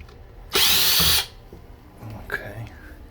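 A power drill whirs loudly in one burst of about a second while backing out screws from a sump pump cover, followed by quieter handling sounds and muffled voices.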